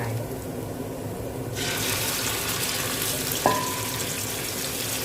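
Pork tenderloin goes into a hot pan with garlic and black pepper for a stir-fry. A bright sizzle suddenly swells and holds steady, with a short metallic clink partway through.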